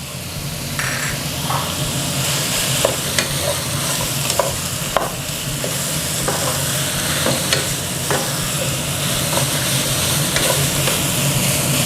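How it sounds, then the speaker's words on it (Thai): Pork ribs stir-frying in a hot pan with fingerroot and green peppercorns: a loud, continuous sizzle with frequent sharp spatula scrapes and knocks against the pan, close up throughout. "ก็ใส่กระชายลงไปผัดเลย ตามด้วยพริกไทยอ่อนนะครับ"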